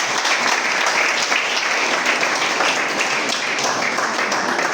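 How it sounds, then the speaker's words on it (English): Dense, loud applause from an audience at a political gathering about an Ogbeijoh local government chairmanship fills the whole stretch as a continuous, even roar of clapping without letup. "A round of applause for that."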